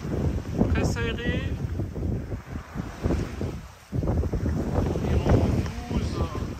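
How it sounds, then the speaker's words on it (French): Gusty wind of about 12 knots buffeting the microphone aboard a sailboat in Greece's Dodecanese, in blustery surges, with water sloshing nearby and a person talking over it. "Environ 12 nœuds de vent pour l'instant."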